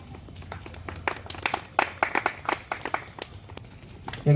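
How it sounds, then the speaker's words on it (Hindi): Applause in honour of a guest at a COVID-19 vaccination drive event in Chhindwara: a crowd claps in a busy rush of sharp hand claps that swells and fades over a few seconds, with a little background voice mixed in. "एक जोरदार ताली से अभिवादन करें हमारे सहगल भाई साहब का।"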